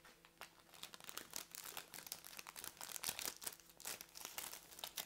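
Thin plastic sleeves crinkle and rustle steadily as scrapbooking supplies are unpacked, a soft, close, continuous crackling with no talk over it.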